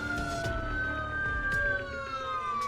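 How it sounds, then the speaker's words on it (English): An ambulance siren passes by a house, its steady wailing tone sliding slowly in pitch, heard clearly at a moderate distance with faint knocks underneath. "there's an ambulance going by my house"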